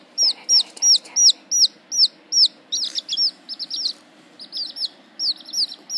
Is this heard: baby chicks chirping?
yes